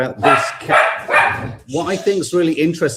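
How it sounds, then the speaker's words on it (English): A dog barks loudly and close by, a rapid series of sharp barks and yips repeating over about three seconds, indoors during a talk recording. "sorry, just 1 second with the dog"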